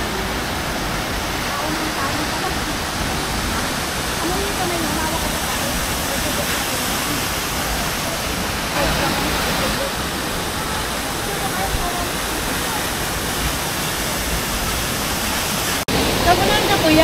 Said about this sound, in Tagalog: nandito na kami sa Malabsay Falls